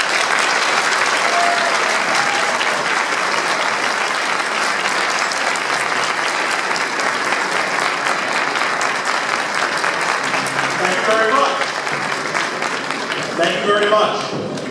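Sustained audience applause for a politician coming onto the stage, loud continuous clapping filling the room throughout, with a voice starting to speak near the end.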